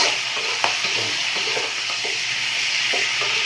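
Pork with dark soy sauce stir-fries in a hot pan, a loud continuous sizzle broken by scraping stirs and light clinks of the utensil.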